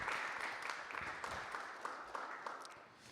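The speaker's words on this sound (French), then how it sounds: "On peut applaudir Axel à nouveau." An audience claps steadily at a cycling-policy conference, a fairly distant wash of applause that fades slightly toward the end.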